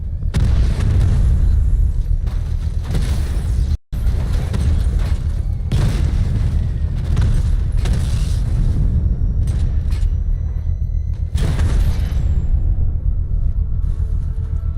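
A bomb goes off in a controlled explosion in a video game, with loud, repeated booming blasts and rumbling over a continuous heavy, dense roar.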